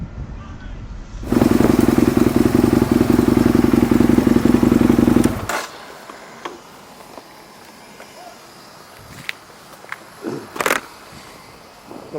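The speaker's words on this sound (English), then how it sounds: "Let's see how the mics can handle the bike sound while stationary." A stationary motorbike engine idles loudly and steadily for about four seconds, then cuts away to quieter background with scattered clatter and brief sharp noises.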